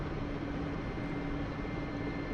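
An Mi-8 helicopter in the DCS flight simulator gives a constant droning engine and rotor hum with steady low vibration, even in level and unbroken throughout.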